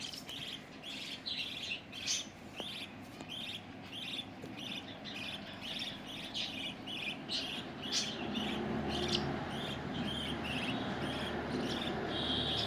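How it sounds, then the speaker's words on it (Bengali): A small bird chirps in quick, regular bursts of high tweets, fairly close, over a steady soft background hiss with no talking. "চলে আসছে পাখি"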